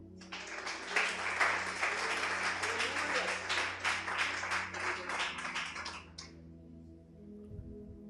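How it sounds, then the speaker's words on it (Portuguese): A church congregation claps and applauds in a dense, rapid patter that swells and then stops abruptly, with a faint low hum carrying on beneath. "Pode aplaudir o Senhor."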